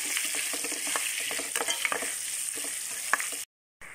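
Curry leaves, peanuts and asafoetida sizzle steadily in hot oil in a pan, with scraping stir strokes throughout before the sound cuts off abruptly near the end.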